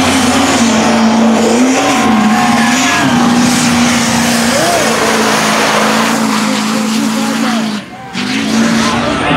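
Diesel mega truck at a drag race, its engine held loud and spooled up in a steady drone throughout, with tire noise and a brief dip near the end.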